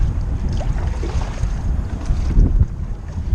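Strong wind buffets the microphone on a boat out on open water near mangroves, a loud gusty rumble with water splashing underneath, close and continuous.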